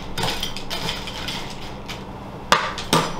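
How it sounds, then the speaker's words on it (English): A large spoon stirs cereal and nuts together in a bowl, giving a steady dry rustle and scrape broken by a couple of sharp clinks of spoon against bowl near the end. "Mix it all together well."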